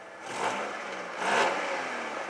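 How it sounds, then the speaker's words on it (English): A car engine runs after a distributor adjustment, revving up in two smooth surges over a steady mid-pitched whir, close by and with no talking. "you can see here the motor sounds awesome"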